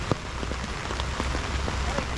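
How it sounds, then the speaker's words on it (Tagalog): Heavy rain pours down steadily outdoors, a dense close hiss of drops with scattered louder splashes and taps, while faint voices talk under it. "ang lakas pa ng ulan."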